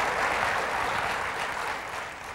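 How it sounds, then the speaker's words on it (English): An audience, including company shareholders, claps at the OpenStep Day 1995 presentation, a steady, even roar of many hands that eases slightly toward the end. "I know some of the people clapping are our shareholders in the audience"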